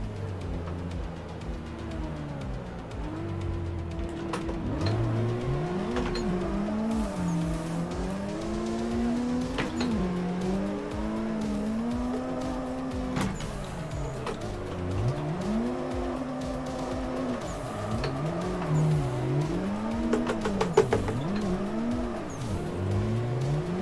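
Several drifting cars, one of them a Supra, keep up a continuous engine roar with long, wavering tire squeals sliding up and down in pitch, loud and steady across the whole stretch with repeated revving swells.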